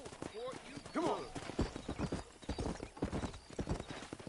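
Horse hooves in Red Dead Redemption clip-clop in a steady trotting rhythm, close and clear, during a cattle-herding ride, with a brief whinny early on and a voice talking over the hoofbeats.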